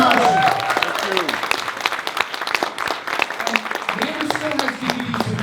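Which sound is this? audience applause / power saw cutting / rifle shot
audience applause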